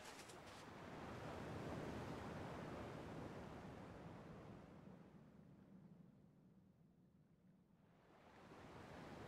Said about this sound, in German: Zumindest klingen die Wellen noch wie früher.